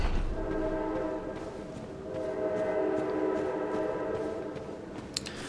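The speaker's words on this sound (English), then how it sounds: "There's a train." A train rumbles past outside, a steady broad roar with a sustained horn tone running through it for several seconds, heard from indoors at moderate loudness.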